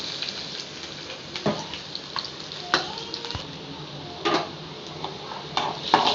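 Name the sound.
chopped ginger and garlic frying in oil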